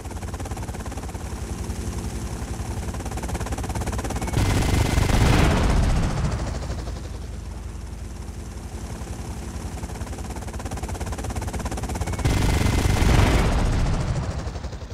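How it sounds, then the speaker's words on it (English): Helicopter rotor thumping and roaring steadily in GTA: Vice City, with two louder swells where bursts of gunfire-like crackle rise over the engine drone. "they've got a helicopter!"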